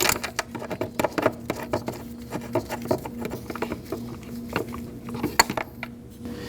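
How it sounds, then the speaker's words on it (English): Socket wrench on a long extension starting an intake manifold bolt on a 2011-2016 Kia Optima: a close series of irregular metallic clicks and light ratcheting taps, some sharper than others, against a low steady hum. "now using the socket with a long extension, go ahead and just get it started."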